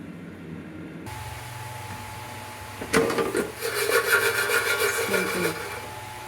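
Masala peanuts, half a cup, roasting in an air fryer at 200 degrees, giving a soft rustling, rattling crackle that starts a few seconds in over a steady fan hum and continues to the end.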